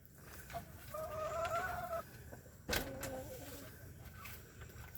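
Miss Frizzle, a backyard hen, gives a few soft clucking calls close by, including a brief two-part cluck, over faint outdoor background noise.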